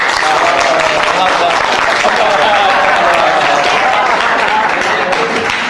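Audience applause for candidates at a Sarawak state election event, a dense, steady wash of clapping that fills the clip, with a voice talking faintly underneath.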